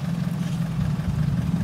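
A six-wheel dump truck arrives to tow a tractor stuck in mud, its diesel engine giving a steady, deep low rumble at close range with no voices over it.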